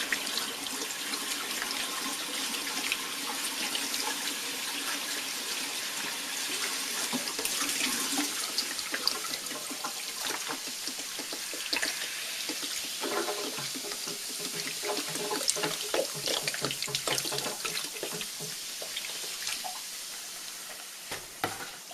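Dr Pepper soda pours steadily over ribs for a long stretch, with a fizzing, splashing wash and scattered crackles, close by and fairly loud.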